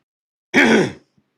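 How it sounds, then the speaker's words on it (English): A single short throat clearing from a man hosting a late-night live talk show, close and fairly loud, followed by silence. "Needed to clear my throat before we got going."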